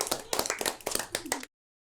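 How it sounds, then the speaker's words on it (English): A short burst of applause from a small group at a brainstorming workshop, sparse uneven claps in quick clusters lasting about a second and a half before cutting off abruptly. "So, round of applause, everyone."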